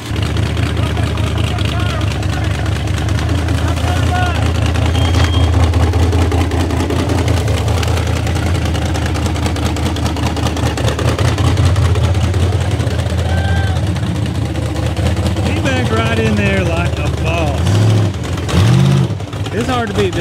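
An off-road rock bouncer's engine runs loud and steady on a muddy trail, a deep continuous rumble with occasional shifts in pitch, while people talk over it nearby.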